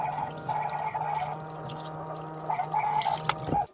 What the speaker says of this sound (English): So this is the current state of our water pump.